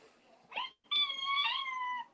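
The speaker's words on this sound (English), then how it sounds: "That's a cat." A house cat gives a short chirp and then a long, wavering meow, close and fairly loud in a quiet room with no talking.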